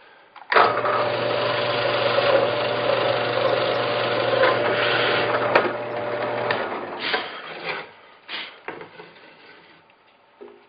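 A router drills holes in a wax slug grid template, giving a loud, steady whirring grind for about six seconds, then spins down into scattered clunks and brief bursts of cutting noise.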